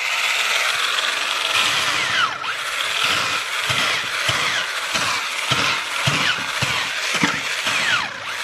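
A homemade two-handed electric chainsaw sword runs continuously, loud and close, with a steady whine and repeated rises and dips as it works.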